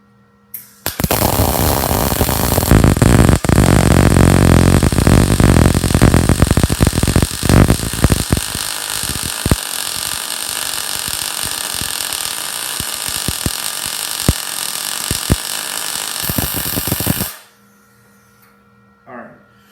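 MIG welding arc laying a short bead on 12 gauge steel, a steady loud crackling buzz running about sixteen seconds with scattered sharp pops, then cutting off abruptly into quiet.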